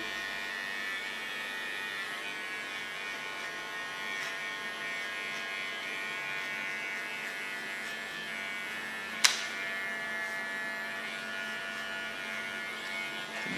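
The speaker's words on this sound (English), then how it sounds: "Putting my blades to the back, combing with my clipper, make a nice soft contour" An electric hair clipper buzzes steadily and faintly while cutting short hair, a thin continuous drone with one sharp click near the end and no talking.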